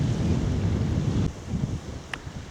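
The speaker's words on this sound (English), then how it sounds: "it's a bit blowier than I was expecting" Strong wind on a seawall walk from Southbourne to Chichester buffets the microphone in a loud, rumbling roar, then eases a little as the gusts come and go.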